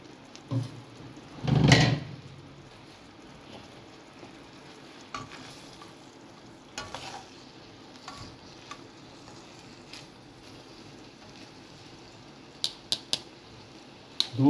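Fried potatoes being stirred into Chinese rice in a pan, with a louder scraping, stirring burst early on, then a quiet background sizzle and occasional sharp utensil clicks and knocks.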